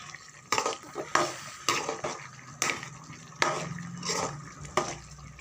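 Chicken masala gravy stirred in a cooking pan, with a spoon making a series of soft rhythmic scraping strokes over a faint sizzle, close and fairly quiet.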